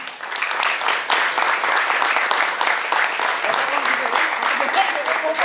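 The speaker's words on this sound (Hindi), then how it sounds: "जोरदार तालियां।" A hall audience at a ballet performance of Shakuntalam applauds loudly and steadily, a thick wash of clapping that holds for several seconds.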